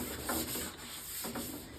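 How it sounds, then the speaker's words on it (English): Wooden trim pieces are hand-sanded with steady back-and-forth rubbing strokes, quiet and close, with a faint continuous hiss behind them. "let me finish sanding these"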